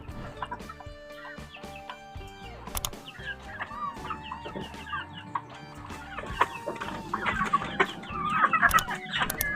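Five young male chicks cluck and peep inside a roomy cage, a busy overlapping chatter of close, fairly loud calls that grows livelier toward the end.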